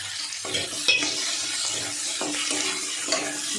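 Potatoes and slit green chillies fry in a pan with a little turmeric, giving a steady close sizzle broken by several scraping stirs and light clinks of the spatula against the pan.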